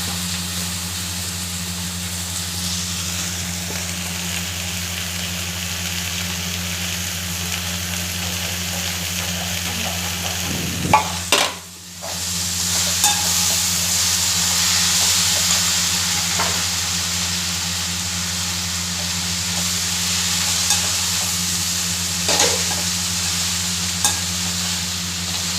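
Drumstick leaves sautéing in a hot pan, giving a loud continuous hiss and sizzle with low hum beneath, briefly cut by a sharp clatter and dip near the middle before the frying resumes.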